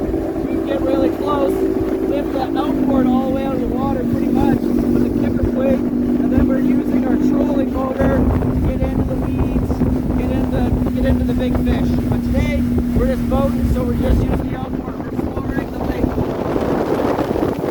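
An outboard motor on a fishing boat at Oakfield Provincial Park drones steadily at close range, its engine tone dipping slightly as it runs, with wind noise and a voice talking over it.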